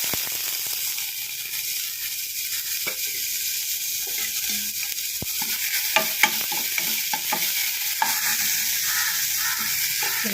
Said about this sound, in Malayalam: നെയ്യ് ഒഴിച്ച് വറുത്തെടുക്കുക